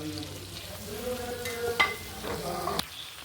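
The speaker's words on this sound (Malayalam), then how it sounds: "നന്നായി ഇത് ഇളക്കി കൊടുക്കാം. ബട്ടർ ഉരുകുകയും ചെയ്യും, നമ്മുടെ കൂണൊന്ന് വെന്ത് കിട്ടുകയും ചെയ്യും." Mushrooms sizzle softly in melted butter in a pan while being stirred, with a couple of sharp utensil clicks against the pan over a low, brief frying hiss.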